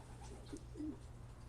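Soft, low cooing from birds drifts faintly over a steady background hum, with a couple of gentle coos standing out.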